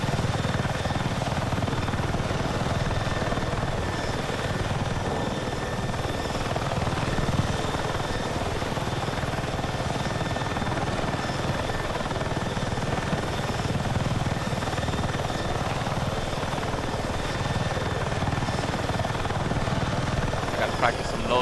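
An aircraft engine drones steadily and loudly throughout as a plane flies low between buildings and dodges missiles in the video game Battlefield 6, with no letup in the roar.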